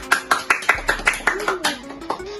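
About a dozen sharp, evenly spaced claps from a small group of listeners at an Indonesian student leadership talk, close and distinct, with speaking voices running underneath.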